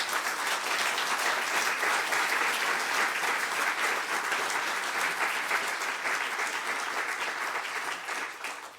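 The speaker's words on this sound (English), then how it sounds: "want to please join me in giving the biggest round of applause to Dr." A large audience at the official opening of a melting-ice and sinking-cities exhibition gives a sustained, dense round of applause for Dr. Sylvia Earle, loud and even throughout before easing slightly at the end.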